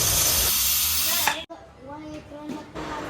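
A pressure cooker holding dal hisses loudly with steam for just over a second, then cuts off sharply, followed by quieter room sound with faint voices.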